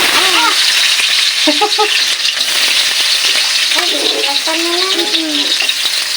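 Garlic fries in a pan with a loud, continuous crackling sizzle and stirring noises, while voices and a child's speech come through intermittently over the frying.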